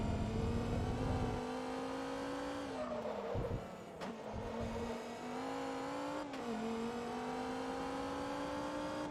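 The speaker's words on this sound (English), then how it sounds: "You can just hear the Carrera GT screaming in the background." A high-revving Porsche Carrera GT engine in the video game Forza Motorsport 2 screams steadily, its pitch sliding down and climbing again through gear changes, loud and continuous with no voices.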